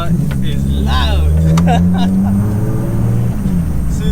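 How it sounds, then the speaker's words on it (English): A built 700bhp Nissan Skyline R33 GTST with its silencer removed drones loudly from inside the cabin, with a low steady exhaust rumble and someone talking over it. "this car is loud"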